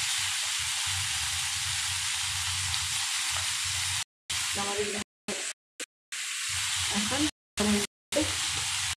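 Red spinach and green chilies sizzle and fry in a pan, a steady close hiss with stirring scrapes, broken by a few abrupt silent gaps, with a brief spoken word.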